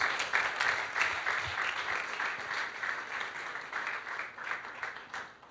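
A church congregation applauding parents presenting their children, a sustained, fairly close wash of clapping that stays steady before easing slightly at the end.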